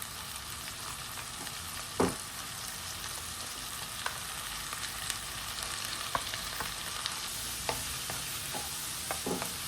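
Grated coconut and moringa leaves sautéing in a pan for a Sri Lankan Tamil crab masala, a soft steady sizzle with occasional stirring clicks and scrapes, close and alone.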